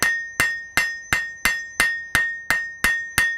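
A hammer planishes metal on an anvil in a smithy, ten evenly spaced ringing strikes in a steady rhythm, each a loud bright clang with a short metallic ring, close and alone.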